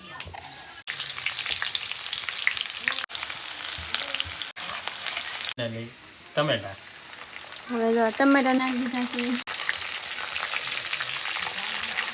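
Whole spices sizzle in hot oil for a dal tempering, a steady bright frying hiss lasting throughout, with a few short tonal squeaks and stirring clatters mid-way.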